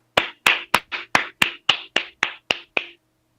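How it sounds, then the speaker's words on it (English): At a conference gathering, about eleven crisp, evenly spaced claps ring out in a measured rhythm, loud and close, then stop, with no talking underneath. "could we encourage him with a round of applause?"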